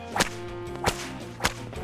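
Three sharp whip cracks snap out one after another on a snowy mountain slope, each loud and close, spaced roughly evenly with quiet gaps between.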